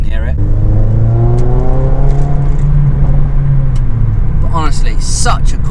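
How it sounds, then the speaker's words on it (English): A Mercedes A45 AMG driven in sport mode, with its turbocharged engine droning loudly and rising steadily in pitch as it accelerates, ending in a few quick bursts. "You can hear the little turbo."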